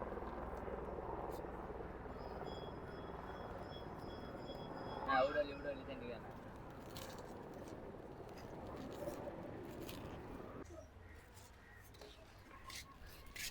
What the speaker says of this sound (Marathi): हेलिकॉप्टर बघ